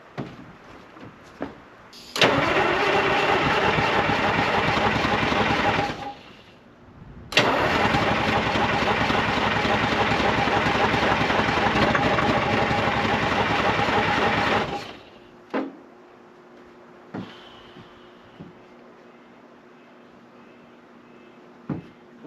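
A 1975 International Loadstar 1850 truck engine cranks and catches twice, each time running loud and steady for several seconds before cutting out, then falls quiet apart from a few faint clunks.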